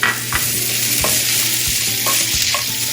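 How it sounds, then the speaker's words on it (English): Onions, peppers, garlic and rosemary sautéing in a pan over medium-high heat, a steady loud sizzle broken by several scraping stirs of a utensil, with no talking. "I'm sauteing this on medium-high heat"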